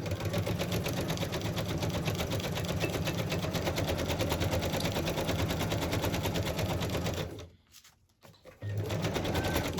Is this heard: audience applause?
no